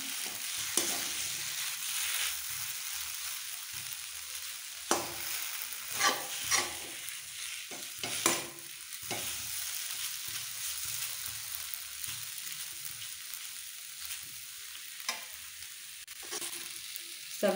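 Sago pearls roasting in a dry pan over a low flame: a steady soft rustling scrape with intermittent stirring clatters, no voices.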